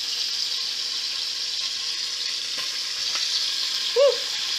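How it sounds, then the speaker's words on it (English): A steady, loud hiss of marinated steak frying in a hot pan fills the clip, with a short squeak near the end. "if you don't hear that sizzle, it's not ready."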